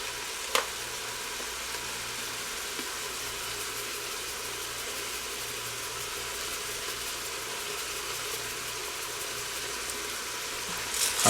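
Vegetables sautéing for red beans and rice sizzle in a pan with a steady, even frying hiss that runs throughout, with a faint low hum underneath and a couple of small clinks.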